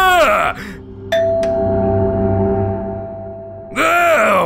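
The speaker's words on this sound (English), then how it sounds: "Relax. It's just the doorbell." A two-tone doorbell chime rings out clearly on a spooky Halloween night in an animated Fortnite short, its sustained ding-dong tones lingering between a man's groaning, startled voice before and after.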